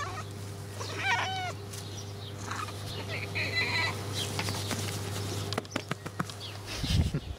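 A cat gives a couple of soft, short meows early on amid a steady background hum and light room noise, with quiet human voices and a few clicks later.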